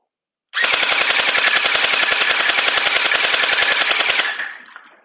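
A YOJOLOIN M4 Wasp gel ball blaster with a drum magazine fires one long full-auto burst of about four seconds. The shots come as a fast, even mechanical rattle, loud and close, then quickly fade.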